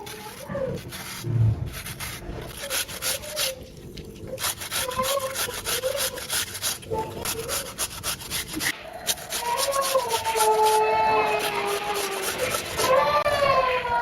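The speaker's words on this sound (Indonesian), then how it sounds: "timun ini akan saya serut pakai serutan keju kayak gini" A cucumber is rubbed against a cheese grater in fast, rhythmic rasping strokes that continue steadily and sound close, with faint background sounds.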